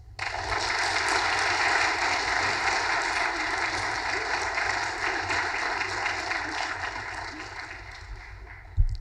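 Sustained audience applause at a Phi Beta Kappa and Society of the Cincinnati convocation welcomes Professor Thompson to the podium, a dense steady clatter of many hands that holds level across the room before swelling at the very end.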